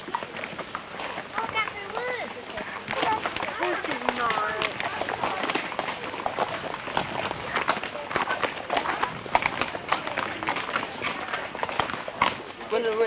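Horses trot on a school trip in Tenby, their hooves clip-clopping in a busy, irregular patter, close by, while people talk and call out over them throughout.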